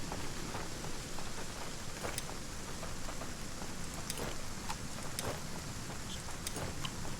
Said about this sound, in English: Horrible and rainy yet again.